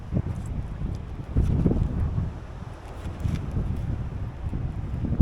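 Gusty wind buffets the microphone in a steady low rumble, swelling and easing without any voices.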